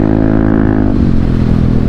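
A Yamaha Aerox scooter fitted with a Krace Ultra aftermarket exhaust revs hard on a quiet road, a loud, close, rising engine roar that settles into a rough, throbbing drone.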